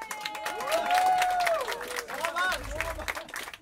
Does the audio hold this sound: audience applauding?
yes